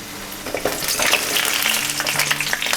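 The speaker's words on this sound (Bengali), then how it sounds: "এর মধ্যে আগে আমরা পটলগুলো ভেজে নেব।" Pointed gourd (potol) frying in refined oil in a wok, a steady close crackling sizzle with brief stirring scrapes, running unbroken throughout with no voices.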